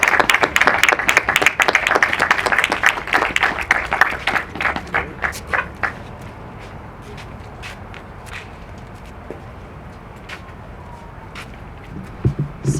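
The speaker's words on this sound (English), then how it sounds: "Round of applause." Dense audience applause at a Black veteran historical corridor unveiling in Oakland, loud at first then thinning to scattered individual claps that fade out, with a few sharp claps near the end.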